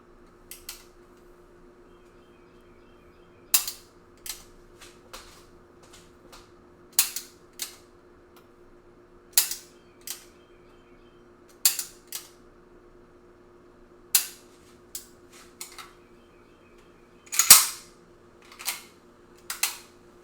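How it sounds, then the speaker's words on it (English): A CZ P-01 pistol loaded with snap caps is dry-fired, giving sharp, dry mechanical clicks at irregular intervals, close and crisp over a quiet background hum. "I have snap caps in my gun right now, so it's whatever."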